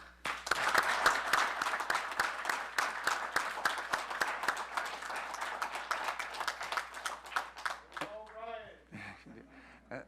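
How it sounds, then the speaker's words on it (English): A room at a city council meeting gives a round of applause: a burst of many clapping hands that thins toward individual claps. A voice begins speaking near the end as the clapping fades. "we're all going to give you a round of applause right now."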